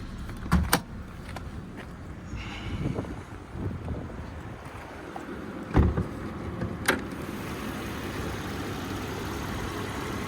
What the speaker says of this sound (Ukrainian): Двигун зараз автомобіль заведений, він працює як годинник, рівненько, чистенько.